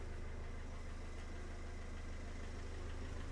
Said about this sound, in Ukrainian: Зараз вона ще голосно працює трошки, тому що вона холодна, але як чуєте, робота дуже рівномірна, гарненька і чиста.